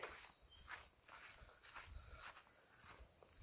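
Crickets chirping steadily in a garden beside a hay-filled planting bed, a continuous high trill with soft pulsing, fairly quiet, with faint rustling footsteps underneath and no talking.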